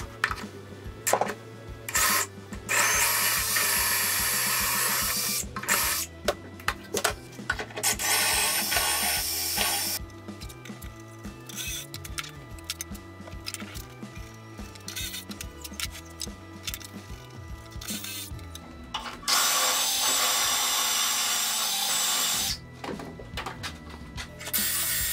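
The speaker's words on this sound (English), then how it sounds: "I'm going to use a drill and this dowel jig to make some holes along the edge of each of the pieces of wood" An electric drill boring holes along the edge of wooden boards through a dowel jig, heard as repeated bursts of whirring motor and cutting noise separated by short pauses, fairly close and quiet, with no talking.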